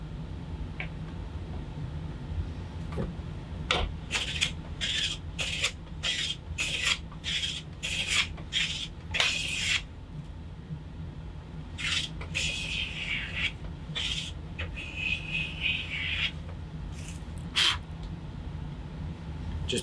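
A hand plane shaves along the edge of a wooden board, a run of about a dozen short rasping strokes in steady rhythm, close and fairly loud, with a few longer passes near the end.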